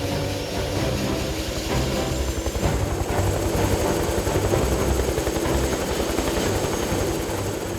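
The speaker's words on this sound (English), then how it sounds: "we have helicopters that helps us a lot now during our works" Helicopter flying supplies to a clifftop railway work site, a steady loud rotor thump and engine roar throughout with no talk.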